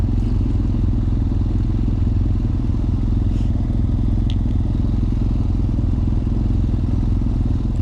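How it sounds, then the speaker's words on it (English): A BMW F800R motorcycle fitted with a HealTech quickshifter, heard while riding as a loud, steady engine drone mixed with wind rush from start to finish. "My fun bike just got a little more fun using the HealTech QuickShifter."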